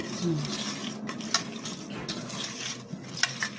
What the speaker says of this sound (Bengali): এখন আম্মু মাছগুলো সুন্দর করে মাখিয়ে নিতেছে